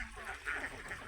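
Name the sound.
ducks quacking near the mouth of the Pasig River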